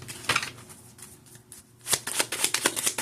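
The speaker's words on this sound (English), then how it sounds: "I'm just going to shuffle these one more again" Tarot cards are shuffled at close range in quick, crisp riffling bursts, a short flurry followed by a faster run of papery flicks.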